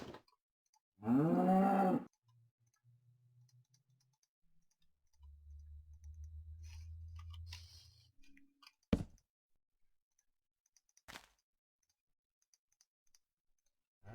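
A cow lows once in a Minecraft-style survival game world, a short loud call, followed by quiet low rumbles, scattered clicks and sharp ticks.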